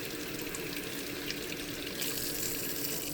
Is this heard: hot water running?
yes